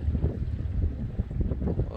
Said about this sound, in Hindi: हवाएं चल रही हैं